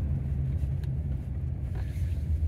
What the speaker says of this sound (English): I'm just pulling into a car park here